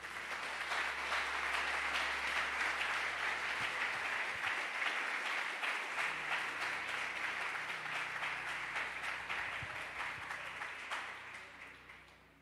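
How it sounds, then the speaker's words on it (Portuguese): A church congregation at a Sunday missions service claps together in sustained, dense applause that holds steady for several seconds and then tapers off at the end. "Aplauda o Senhor."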